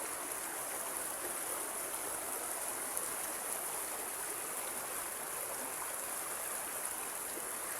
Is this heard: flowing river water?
yes